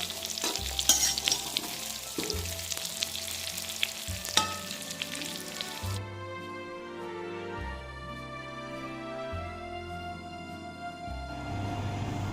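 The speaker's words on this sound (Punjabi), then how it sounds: "4 ਤੋਂ 5 ਮਿੰਟ ਤੱਕ ਫਰਾਈ ਕਰਾਂਗੇ ਇਸ ਤਰ੍ਹਾਂ ਆਪਾਂ" Soya chunks fry in hot oil, a steady close sizzle and crackle with occasional stirring scrapes, continuous and moderately loud throughout, with music running underneath.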